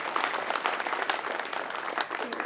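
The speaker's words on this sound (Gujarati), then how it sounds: "એટલે આપણે બધા એકવાર જોરદાર તાળીઓ સાથે" Audience at a district-level school cooking competition applauding the finalists, a dense burst of many hands clapping steadily for a couple of seconds, moderately loud with no break.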